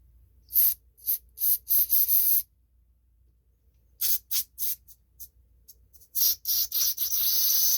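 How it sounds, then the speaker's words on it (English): Repeated short bursts of aerosol cleaner hiss close by, sprayed into the carburetor holes of a John Deere TRS 21 snowblower, in quick clusters separated by a brief pause, ending with a longer sustained spray. "I'm spraying in these holes to get them cleaned out"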